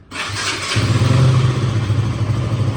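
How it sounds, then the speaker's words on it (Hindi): A KTM 200 motorcycle engine cranks briefly and then fires. It settles into a loud, steady, close idle with a deep rumbling throb that continues to the end, with no talking. "जो इंजन है उसको क्रैंक करते हैं।"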